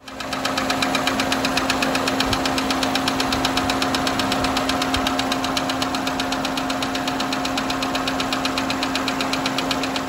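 A Ford Fiesta engine running with a rapid, steady knocking from the oil pan underneath, close and loud, with a constant mechanical hum throughout.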